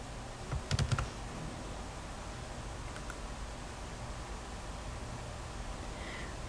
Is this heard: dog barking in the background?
no